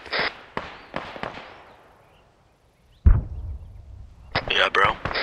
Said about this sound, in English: Yeah, who's shooting right now?